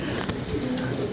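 A racing pigeon cooing close by, soft low throaty calls over a faint background, brief and unaccompanied by speech.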